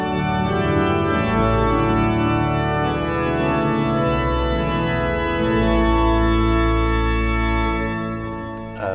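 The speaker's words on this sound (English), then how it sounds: "Sounds like this. Mixture with two ranks." Pipe organ at Romsey Abbey plays full with a two-rank mixture stop, a bright, dense sustained chord sequence holding steadily for several seconds before easing off.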